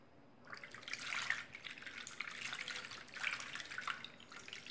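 Liquid bleach soap poured into a container, a steady splashing trickle with two stronger surges, moderately faint and alone with no talk.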